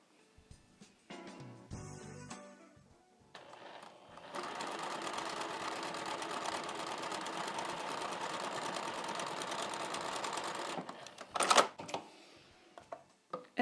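A sewing machine topstitches along fabric in one sustained, fast whirring run after a few short starts and handling noises, then stops with some clicks and rustling.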